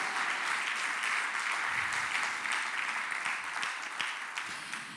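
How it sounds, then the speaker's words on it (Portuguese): Church congregation applauds during a sermon, a full burst of many people clapping that rings steadily and then begins to taper off toward the end. "Aplauda a Jesus"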